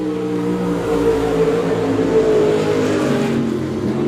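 Race cars roar around Monett Motor Speedway during a feature race, a loud continuous engine drone with shifting pitches as cars pass, no talk.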